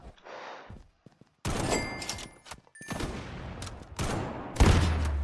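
Sniper rifle fire in the Roblox Sniper Arena game, a few sharp separate shots with reverberant tails and thuds between them, growing louder toward the end, with no voices.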